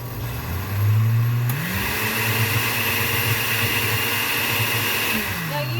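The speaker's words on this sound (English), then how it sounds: "turn the blender on and it'd fly all over." A blender mixing an iced matcha green tea latte: a loud motor whine kicks in, jumps up in pitch, then holds a steady drone for several seconds before winding down at the end.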